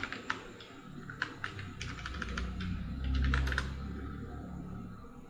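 Someone types on a computer keyboard while writing in Microsoft Word. The key clicks are close, irregular and fairly quick, with no talking over them.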